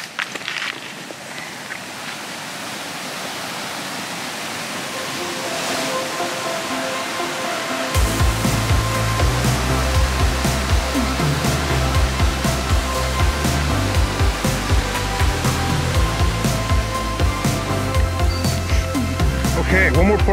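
A waterfall beside a canoe portage in the Kawartha Highlands, a continuous broadband rush heard from nearby that grows fuller and louder partway through, steady throughout with some other low sounds mixed in.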